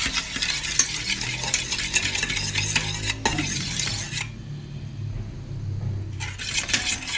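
A utensil stirring Milo chocolate drink powder into a pudding mix in a pot, making close, continuous scraping and swirling strokes with light metallic clinks, briefly pausing before resuming.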